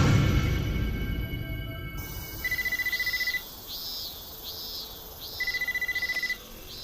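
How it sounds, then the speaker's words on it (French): A telephone at a family tofu shop rings in a Japanese anime episode, a clear electronic warbling ring in two separate bursts over a low background hum, with no voices. "Hé, Takumi, téléphone."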